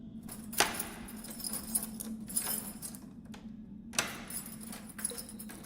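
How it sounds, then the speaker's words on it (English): Metal keys jangle and clink in bursts as a prison cell is unlocked, with several sharp metallic rattles against a low steady hum, nearby and moderately quiet. "I'd appreciate it if you could unlock the cell."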